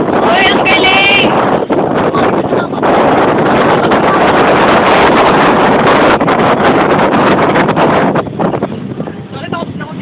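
Strong, steady wind roars across the microphone for the whole stretch, a loud rushing buffet that eases a little near the end.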